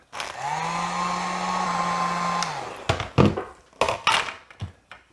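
A heat gun blows steadily on a plastic scoop for about two seconds, a close whirring hum, then cuts off and is followed by several loud knocks and thumps as the softened plastic is pressed flat.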